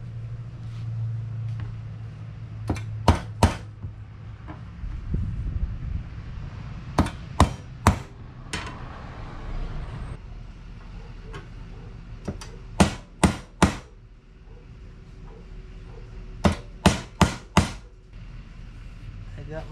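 A metal punch is struck with a hammer to mark divots for drilling holes for speaker leads, power leads and RCA cables, coming as sharp metallic taps in quick clusters of two to four, separated by pauses with low background hum.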